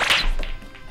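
A single sharp crack of balls colliding, quick and close, with a short ringing tail and no voices.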